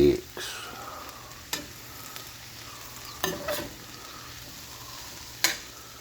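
Chopped portobello mushrooms sizzling in a pan, a steady soft fry broken by several sharp scrapes and clacks of stirring, close and fairly quiet with no talking.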